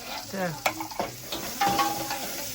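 Aloo paratha cooks in a pan with soft sizzling and the scrape and stir of a spatula, a few sharp clinks and knocks scattered through, faint kitchen background.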